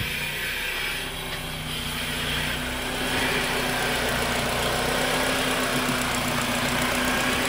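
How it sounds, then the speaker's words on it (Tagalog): Honda Accord engine running steadily after a no-start fault, with a check engine light on and a suspect oxygen sensor, giving a close, even idle drone with slight vibration and no talking. "Ayan, umaandar na yan."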